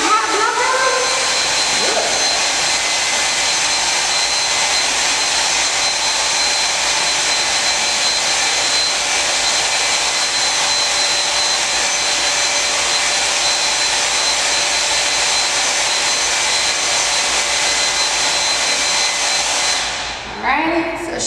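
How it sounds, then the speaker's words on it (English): A hair dryer blows hot air in a steady, loud, continuous whoosh for about twenty seconds, then cuts off abruptly at the end. "Blow dry now."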